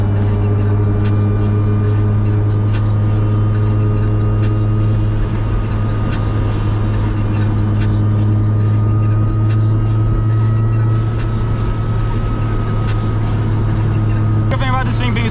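Loud, steady engine drone of a JDM car heard from the driver's seat on a midnight convoy run, a deep constant hum filling the cabin throughout with little change in pitch.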